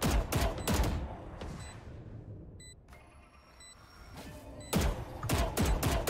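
Rapid bursts of video game gunfire crackle at the start and again near the end, with a quieter lull in between that carries faint distant shots and a few short electronic tones, and no voices.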